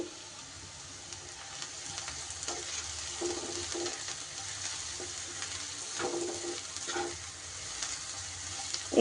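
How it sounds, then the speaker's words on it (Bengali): Onions sprinkled with salt fry in a pan, giving a soft, steady sizzle with occasional faint stirring scrapes, fairly quiet and without speech. "পেঁয়াজটা তাড়াতাড়ি ফ্রাই হওয়ার জন্য এখানে দিয়ে দিলাম একটু নুন"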